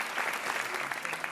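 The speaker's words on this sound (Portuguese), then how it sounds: "Minhas palmas foram para a Ana." A studio audience on the Portuguese TV quiz show Joker applauds, a brief, dense burst of many hands clapping at steady volume with no voices.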